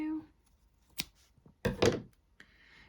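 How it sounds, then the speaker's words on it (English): Scissors snip through the yarn tail of a crocheted amigurumi Pokémon Smoliv toy, giving a few short, crisp cuts close by, with a voice heard briefly at the start. "So now I can cut that yarn tail."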